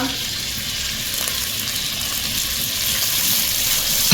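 Tomatoes, green chili, chicken cube and curry leaves hit hot oil in a pan for masoor pulao, giving a steady, close, hissing sizzle throughout.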